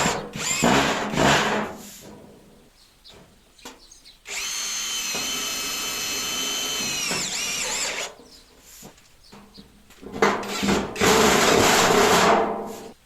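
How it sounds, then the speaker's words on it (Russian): A power drill whines steadily for about four seconds as it drives a self-tapping screw into thin sheet metal, framed by scraping and handling sounds before and after. "Жесть просто берем вот саморез и прикручиваем"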